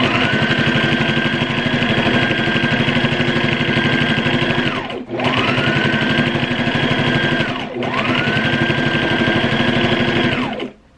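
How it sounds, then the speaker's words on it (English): A sewing machine stitches shirring lines into fabric for a tube top, running in three long, steady rattling bursts separated by short pauses, close and loud. "there was nothing else to do except continue sewing"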